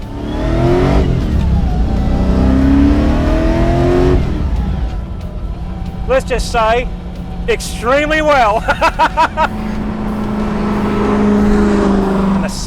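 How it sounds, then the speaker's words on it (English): A supercharged 347 Windsor V8 in a GT500 Eleanor Mustang revs hard with exhaust and induction noise, rising and falling in loud bursts through the middle, while someone talks over the engine at the start and end. "the growl, the snarl, the exhaust note, that supercharger whine, the induction noise, it's got all the right things happening"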